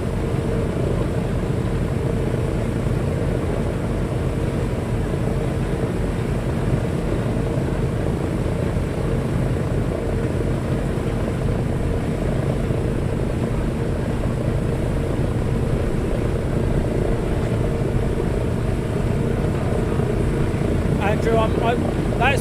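Avro Shackleton four-engine aircraft with its engines running, a steady loud low drone and propeller throb that stays constant throughout, with crowd chatter faintly underneath at an open day.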